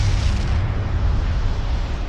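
Explosion sound effect standing for a massive dying star: a deep, loud rumbling boom that stays heavy and sustained through the short stretch, with broad noisy roar and no voice over it.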